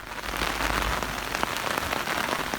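Heavy rain pours down outdoors in the mountains, a dense, loud, continuous hiss of drops striking surfaces close by with no voices.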